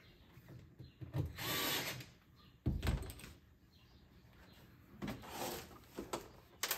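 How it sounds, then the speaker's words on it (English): Two screws go into a wall for a BIOtouchless TP 100 automatic toilet paper dispenser, with faint bursts of a power driver whirring and small handling knocks, quiet and close. "So we're gonna go ahead and put those 2 screws in, just lightly, just to where they catch."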